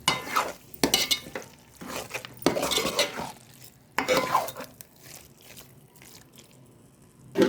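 A spoon stirs and scrapes through chicken gongura curry in a metal pan after salt goes in, with repeated clinks and scraping strokes at close range and no talking.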